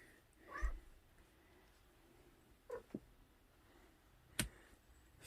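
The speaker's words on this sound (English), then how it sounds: "here's the other kitty cat" A house cat makes a few brief, quiet vocal sounds indoors: a short cry near the start, two soft chirps midway and a sharp sound later, with near silence between.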